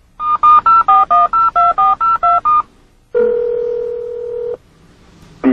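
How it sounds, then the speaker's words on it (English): A 1994 BMW 7-Series (E38) integrated cellular phone auto-dialing the BMW emergency call service: ten loud, evenly spaced DTMF dial tones, a pause, then a long steady tone and the start of another beep. "The integrated cellular phone will automatically call the BMW Emergency Call Roadside"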